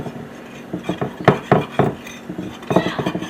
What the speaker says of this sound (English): We're going to whisk it up and then we're going to taste it.